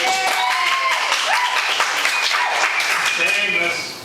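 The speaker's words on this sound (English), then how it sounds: "You can applaud." An audience breaks into applause, with a thick wash of clapping blended with voices and a few sustained tones, holding steady before tapering off at the very end.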